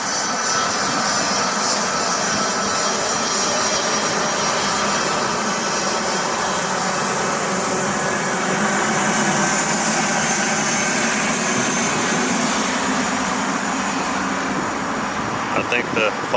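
A Delta Boeing 757 jet taking off, its engines roaring loud and continuous with a broad rumbling wash of sound that holds steady throughout; people talk faintly underneath.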